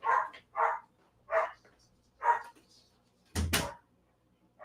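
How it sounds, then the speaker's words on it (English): A dog barks indoors in a handful of separate sharp yaps spaced about a second apart, moderately close, followed by a thud like a door shutting. "My dog is going crazy."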